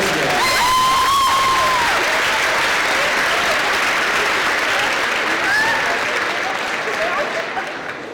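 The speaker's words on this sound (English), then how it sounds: "Give him a round of applause." Audience applause in a hall after a speaker introduces a guest, a dense burst of clapping sustained for several seconds, tapering slightly at the end, with a voice speaking over the start.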